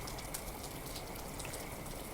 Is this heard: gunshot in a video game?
no